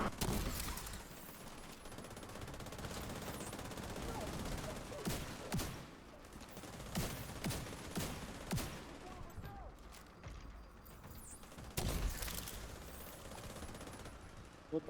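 Gunfire in the video game Paradise Lost, repeated bursts of shots and sharp cracks over a dense, noisy game background, fairly faint overall with a louder cluster near the end.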